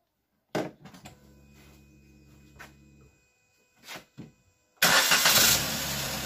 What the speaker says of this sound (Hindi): तो अभी ये गाड़ी गैस में चल रही है